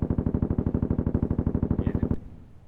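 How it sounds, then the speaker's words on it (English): Rapid automatic gunfire in a military video game, aimed at a vehicle's tires, fires as a steady, fast, evenly spaced burst for about two seconds and then stops abruptly, with a brief echo afterward. "I think we can shoot the tires out"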